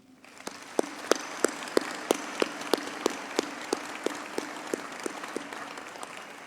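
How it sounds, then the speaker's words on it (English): Audience clapping at a university humanities graduation ceremony, heard as a fairly faint, steady series of evenly spaced sharp claps over a low room hum. "May we give him another round of applause?"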